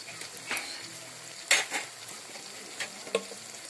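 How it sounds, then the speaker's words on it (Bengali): Garlic paste, cumin and other spices frying and being stirred in a pan at a picnic cookout, with soft sizzling under scattered scrapes and clinks of a spoon against the pan, several sharper metallic knocks standing out. "সবগুলো মশলা এখন একটু ভালো করে কষিয়ে নেব।"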